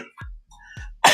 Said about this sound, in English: Oh, I just had a cough.